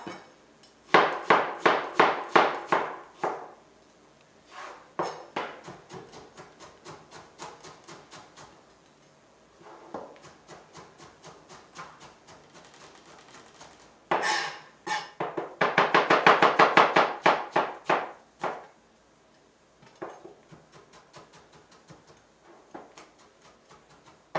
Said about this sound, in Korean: 조금 무른 딸기는 잘게 썰어 주세요.